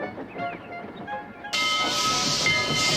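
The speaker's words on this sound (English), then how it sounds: "Douglas steamed by. He was pulling a train of heavy coal cars." A steam engine pulling heavy coal cars, with rail clatter and a faint whistle tone, then a loud steady hiss of steam bursting in partway through and continuing close and strong.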